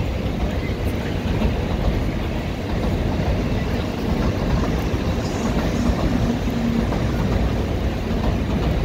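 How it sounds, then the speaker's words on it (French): A Shinkansen bullet train runs through Tokyo at night after rain, a loud continuous rushing roar with rail noise that holds steady throughout, with no clear talk. "Ça c'est le Shinkansen, c'est le TGV japonais."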